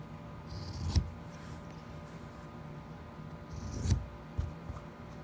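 Two crisp snips of scissors cutting the stitched fabric corners off a sewn face mask, spaced about three seconds apart, close and fairly quiet against a faint room hum.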